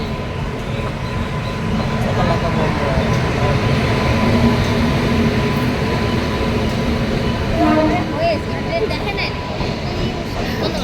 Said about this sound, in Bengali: ট্রেন ঢুকছে দেখো ট্রেন ঢুকছে